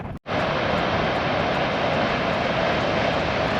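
Airplane flying overhead above Rottnest Island, Australia, its steady engine roar loud and continuous after a brief dropout at the start, with no voices.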